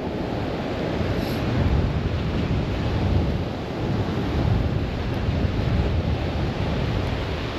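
Waves wash continuously against the Lake Superior shore, a loud broadband rush of surf that swells and eases in gentle surges, mixed with wind buffeting and no speech.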